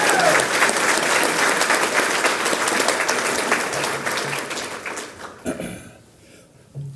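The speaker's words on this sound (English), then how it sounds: "How about another round of applause for our finalists?" Audience applause for award finalists at the 2025 Crystal Apple Awards night, a dense steady wash of clapping that fades out near the end, followed by a brief burst of room noise.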